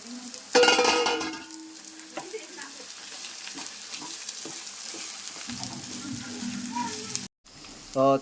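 Bitter gourd pieces frying with onions in a pan, loud sizzling bursts as the pieces go in, then steady crackling with stirring scrapes and a brief dropout near the end.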